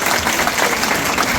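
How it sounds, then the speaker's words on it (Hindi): An audience at a party office gathering claps steadily to welcome a guest: a dense, loud, even patter of many hands with no voices on top. "मैं चाहूंगा तालियों के साथ हम उनका स्वागत करें"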